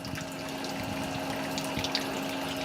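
A backyard bird bath fountain's pump hums steadily while water circulates and trickles from a reservoir bucket below, a close, continuous low drone with bubbling splashes and no speech.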